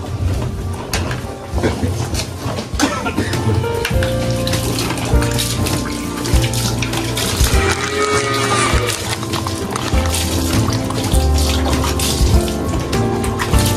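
Water splashes and streams over a cow's chest in a corral, a loud, continuous rush and spatter close by, with faint voices mixed in.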